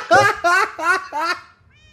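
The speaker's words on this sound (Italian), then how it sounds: "gatto continua a fare sti versi" A cat in the video game The Guild 3 meows four times in quick succession. The calls are close, loud and evenly spaced, each short and whining, and the last one trails off into quiet.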